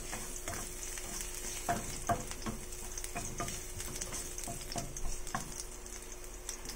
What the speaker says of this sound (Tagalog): Lutuin muna natin saglit. So, ayan, medyo nag-brown yung ating garlic.